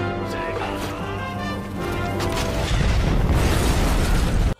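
A suicide bomb detonates at an enemy gate in an ancient Chinese battle, a deep explosive boom swelling into a heavy rumbling crash that builds louder before cutting off abruptly, over dramatic music.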